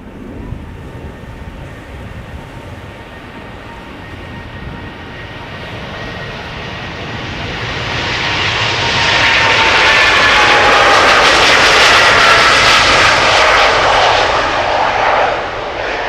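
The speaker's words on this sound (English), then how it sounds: "787-10 Dreamliner PHBKI, 4 years old, first flight August 2020." Jet engines of a Boeing 787-10 Dreamliner at Amsterdam Schiphol Airport roar as the aircraft passes, building from a distant whine to a loud, broad rush that peaks near the end before easing slightly.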